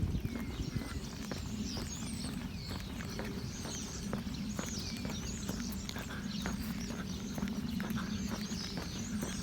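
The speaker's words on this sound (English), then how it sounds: "Oh, horses." Steady clip-clop of horse hooves walking at an even pace on a street in Germany, with faint birdsong and low outdoor rumble in the background.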